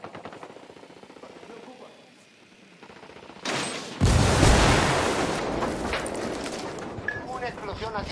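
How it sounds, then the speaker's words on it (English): Gunfire and an explosion ring out in a Ghost Recon tactical shooter game: scattered shots give way to a loud blast, followed by sustained rapid automatic fire and debris rumble, with radio chatter mixed in. "Una explosión ha sido detectada."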